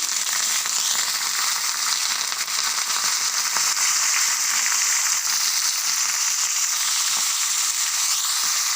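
Intense, constant hissing sizzle of leaves hitting hot oil, with crackling pops throughout, close and loud with no talking.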